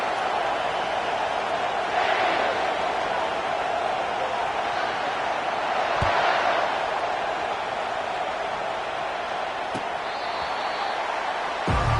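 A large stadium crowd roars steadily at a college football kickoff as the Buckeyes kick off, a dense continuous wash of cheering with brief swells, heard alongside a commentator's voice.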